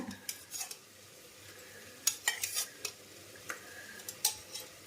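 A spoon stirs yogurt into curry in a pot, several quick clinks and scrapes in bursts over a faint sizzle, close and fairly quiet.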